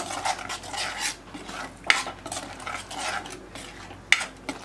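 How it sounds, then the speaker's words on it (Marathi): Yogurt is stirred into fried onions in a pan for a dhaba-style egg curry: a spoon scrapes and swishes in soft repeated strokes, close by, with a few sharp metallic clinks against the pan and faint sizzling beneath. "ते आपल्याला मिक्स करून घ्यायचे।"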